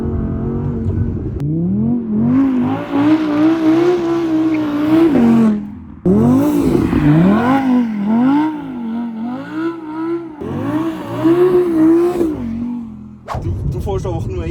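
An Audi being drifted on a scenic road, its engine revving hard in rising and falling surges with a whirring, strained tone and brief lifts between pushes, loud and close throughout with no talk.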